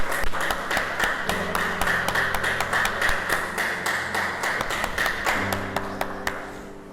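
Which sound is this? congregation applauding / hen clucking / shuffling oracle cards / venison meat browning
congregation applauding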